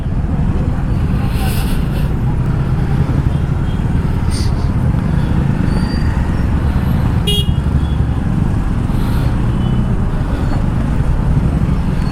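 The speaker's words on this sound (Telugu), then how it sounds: "ఏం ట్రాఫిక్ రా ఇది" Heavy road traffic with car horns honking, a dense constant rumble of engines close by with several short horn toots scattered through, and voices faintly mixed in.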